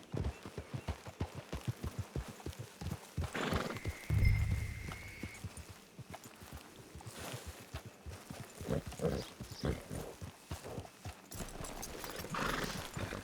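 Horse hooves clip-clopping steadily in Red Dead Redemption 2, a continuous rhythmic trot with a neigh partway through, close and fairly loud against background game ambience.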